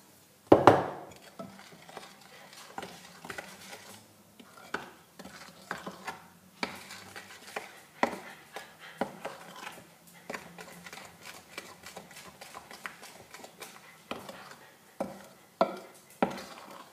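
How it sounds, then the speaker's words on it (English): A spoon works flour into chocolate chip cookie dough in a bowl, making soft repeated scraping clinks and knocks in an uneven rhythm, close and fairly quiet, with one sharper knock near the start. "We're going to stir in just a little bit, and then we're going to add the rest of our flour slowly."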